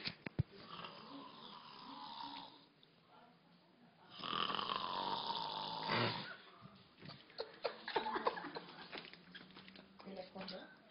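A man snores at the Fenamilho 2012 festival: long, loud, rasping breaths drawn in slow cycles, with people talking and chattering around him.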